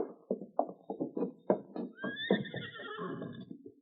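In an old radio drama, a horse whinnies loudly and close by, a long rising-and-falling call, over earlier thuds and hoof clops.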